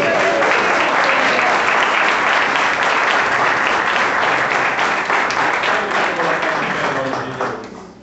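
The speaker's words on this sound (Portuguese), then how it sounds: "dê uma boa salva de palmas para Ele" A church congregation bursts into sustained, dense applause, many hands clapping loudly and close, holding steady before tapering off in the final second.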